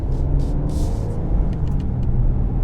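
A Kia Telluride SUV drives along with a steady low road rumble and engine hum from inside the cabin, a few faint clicks and hisses over the top, no speech.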